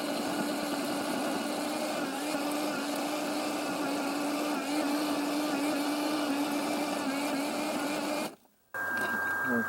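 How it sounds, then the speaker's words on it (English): A Parkside PEBH 1500 B2 electric tiller (1500W, 40cm) churns through hard garden ground with a loud, steady motor whine and rattling tines. It cuts out briefly near the end, then restarts with a different tone. "Now here the ground is harder and it's jumping."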